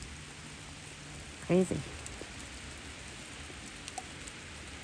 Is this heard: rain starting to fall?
yes